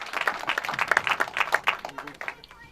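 Applause at a Chhattisgarh Diwali gathering of a poetry group, scattered hand claps from an audience for under three seconds, fading toward the end.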